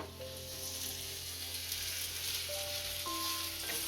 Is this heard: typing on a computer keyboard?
no